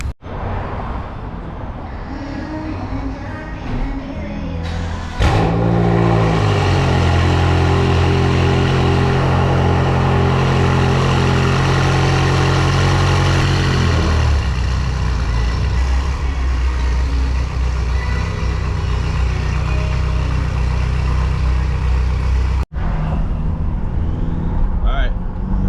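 BMW M6 engine close by, idling at first, then swelling into a loud, sustained rev that holds for several seconds before settling back to a steady rumble, with a brief cut near the end.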